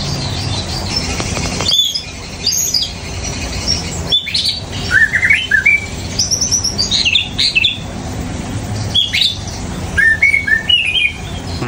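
Songbirds, kept as beginner caged birds, chirp and tweet in quick bursts of high calls over a steady noisy background, with brief flutters and squawks, fairly near and lively.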